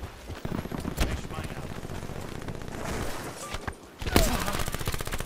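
Rapid gunfire in a Black Ops 4 team deathmatch crackles in loud, dense bursts, with near shots and brief sharp cracks, a short lull just before a fresh heavy volley near the end.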